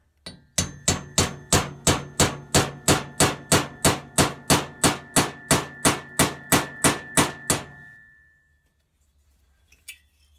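About twenty sharp metallic hammer blows drive a valve guide into place on a Citroën 2CV engine, in a steady, even rhythm, ringing brightly, then stop, followed by near silence and one faint knock.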